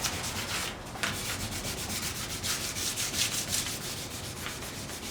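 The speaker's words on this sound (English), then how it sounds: "before I start I'll go over it very quickly with some micro mesh" Fine 2400-grit micro mesh rubbed over a French-polished wooden guitar neck, a steady soft scratchy hiss with rhythmic back-and-forth strokes, close and continuous with no talking.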